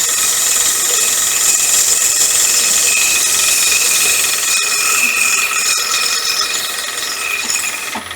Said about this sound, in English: Bit of time at workshop, bit of practicing on lathe, spinning some wood.